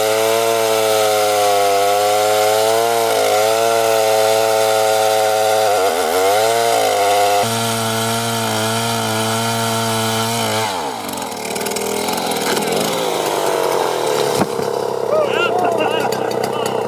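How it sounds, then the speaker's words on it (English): Loud chainsaw cutting through a large log outdoors in a field, a steady harmonic engine drone that bogs and shifts pitch as the chain bites, then turns rougher and noisier toward the end. "Each slice sends a deep echo across the field, and the massive log shifts"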